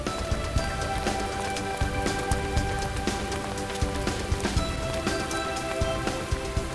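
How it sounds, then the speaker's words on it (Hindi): Steady rain patters densely on surfaces close by, with scattered louder drops hitting throughout and no voices over it. "बारिश कहाँ से आ गई चलो यार?"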